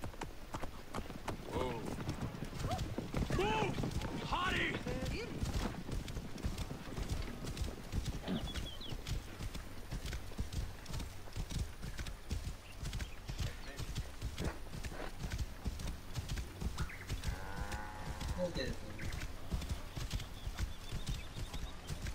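Steady clip-clop of horse hooves trotting at an even rhythm throughout in the video game Assassin's Creed Origins, with someone talking over it and a brief whinny near the end.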